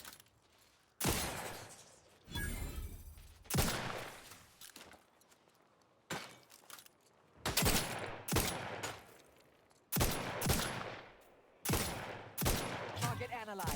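Gunfire from The Outer Worlds 2 video game: repeated loud bursts of shots and rapid fusillades coming in clusters separated by short quieter gaps, close and sharp.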